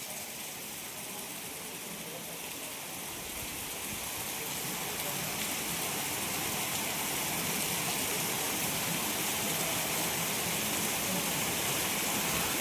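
Heavy rain pours down in Porbandar, a steady broadband hiss that swells louder after the first few seconds and holds dense and unbroken with no voices.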